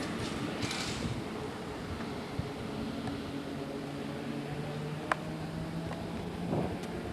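An older tram passes along a city street near a park, a faint steady rumble with low rail squeal tones and a few sharp clicks, distant and continuous throughout.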